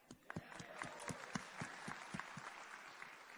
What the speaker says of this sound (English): They say clapping is yoga too.